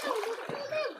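A brief splash as someone dives into canal water, close and loud, with voices around it.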